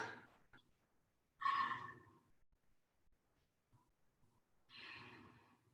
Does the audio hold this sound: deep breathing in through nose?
yes